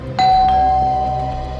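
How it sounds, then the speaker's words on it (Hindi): A doorbell rings once in an indoor TV crime drama scene, a single sustained electronic chime that sounds clearly and close, then fades out slowly under a low background hum. "दरवाजे की घंटी ने बचा लिया बच्चू।"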